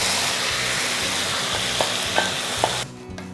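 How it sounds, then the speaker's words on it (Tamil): Boiled radish and lentils are tipped into a pan of sautéing coconut and stirred, a loud continuous sizzle and frying hiss with a few scraping stirs before the sound drops away abruptly near the end. "அந்த ஸ்டேஜில் நம்ம இந்த வேக வச்ச முள்ளங்கியும் பருப்பையும் எடுத்து கொட்டிடணும்."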